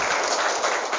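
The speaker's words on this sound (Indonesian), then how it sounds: "tepuk tangan buat kakak kita hari ini" Applause from a seated audience at a Ramadan gathering, a dense, even wash of hand claps lasting about a second, close and loud with no voices over it.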